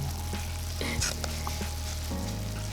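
Hot boiling sugar for homemade taffy being stirred slowly, a soft bubbling sizzle with a few scraping knocks of the spoon, fairly faint and close.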